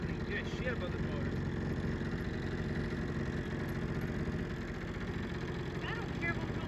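A fishing boat motor runs steadily nearby with a low, even, throbbing drone that never changes, while voices can be heard over it.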